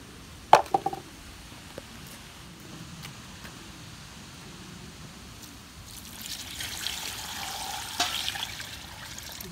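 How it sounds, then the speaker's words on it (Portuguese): Water is poured and trickles onto a new clay oven to moisten it, a soft, steady splashing that swells louder near the end after a few faint knocks early on, with no talking. "Agora eu vou colocar água aqui."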